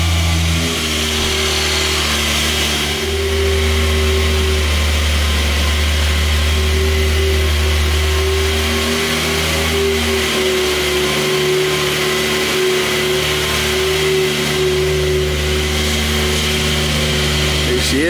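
A Porsche 911 992 Turbo S Cabriolet with Aerokit runs loud and close, a steady deep engine drone with mild swells in revs throughout.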